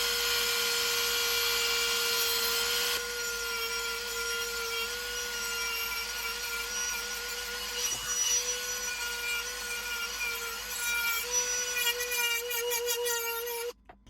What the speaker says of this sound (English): I'm just gonna use this Dremel and score some really aggressive gouges on the inside of the handles